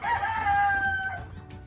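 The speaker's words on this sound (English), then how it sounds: "Two chickens, and right now they're taking a bath." Farm chickens dust-bathing in the yard, with a rooster letting out one loud, drawn-out crow that fades away, close by and heard without speech.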